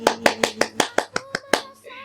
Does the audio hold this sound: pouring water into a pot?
no